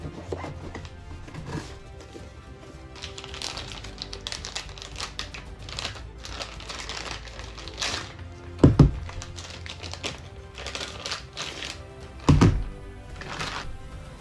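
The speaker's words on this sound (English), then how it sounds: "let's go ahead and open up the package. So each magazine is individually wrapped in its own plastic." Individually plastic-wrapped airsoft mid-cap magazines, Lancer Systems L5 AWM, are unwrapped by hand. Crinkly rustles and light taps are scattered throughout, with two sharper knocking clunks standing out near the end.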